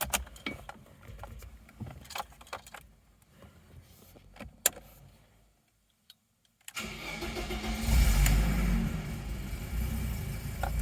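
An older BMW E30 Touring with its original engine: faint clicks and rustling, a few seconds of near silence, then the engine catches and settles into a loud, steady idle.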